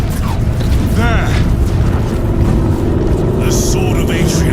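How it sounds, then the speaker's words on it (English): Engines in the Warhammer 40,000: Space Marine 2 video game approach as a loud, continuous low roar and rumble, with a brief sweeping tone and a burst of higher noise near the end. "I hear engines."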